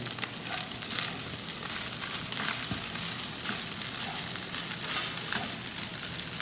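Continuous bubbling and sizzling from a pot of thickening kare-kare sauce on the stove, steady and fairly loud throughout with scattered pops, no talking.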